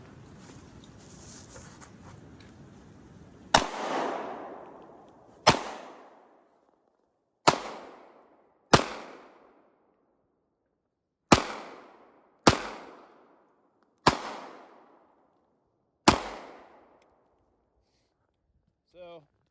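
Pistol gunshots from a Norinco Type 54 and a Rock Island 1911 fired at targets outdoors. Eight sharp, loud reports ring out at irregular intervals, each followed by a short decaying echo, after a stretch of quiet ambient noise.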